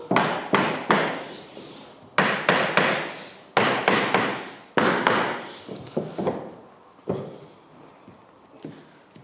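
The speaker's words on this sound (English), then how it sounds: "So use the knocking block as we did with the floating floor." Wooden floorboards knocked together with a knocking block while a run of flooring is laid, giving a series of sharp, close wooden thumps in irregular clusters, each ringing briefly before the next blow.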